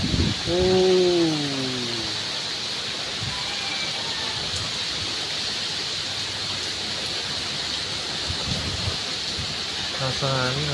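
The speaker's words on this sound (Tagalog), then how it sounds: "Lakas ng hangin" Strong typhoon wind roars steadily as a constant broadband rush, with brief voices speaking near the start and end.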